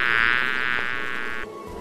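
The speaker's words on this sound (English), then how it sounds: "We hear a bee buzzing when the bee moves its wings." A bee's wings make a steady, loud, close buzz that holds evenly for over a second and then cuts off abruptly.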